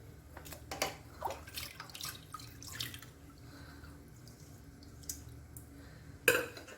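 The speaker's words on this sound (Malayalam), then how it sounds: "നല്ല തണുത്ത വെള്ളത്തിലോട്ട് നമുക്കിനി ഇട്ട് കൊടുക്കാം." Small pieces of ada plop and drip into fridge-chilled water one after another while making ada pradhaman, with light clinks of a utensil, then a sharper splash near the end.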